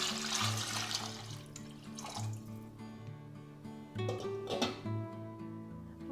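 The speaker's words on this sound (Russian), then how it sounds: "Заливаю водой." Tap water runs into a 3-litre pot holding pieces of chicken meat, a soft continuous splashing gush with a few louder surges, fairly faint and without talk.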